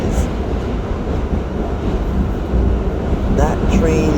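A New York subway train crosses the Manhattan Bridge toward Brooklyn, giving a loud, close, continuous rumble with faint rattles and a brief squeal near the end, while voices talk over it.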